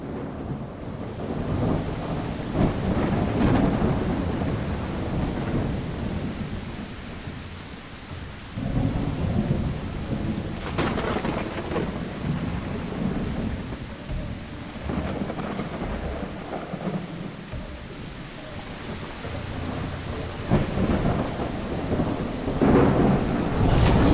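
A game thunderstorm in ARK: steady heavy rain with rolling thunder and several louder cracks rumbling through about twenty-four seconds, close and full, with no talking.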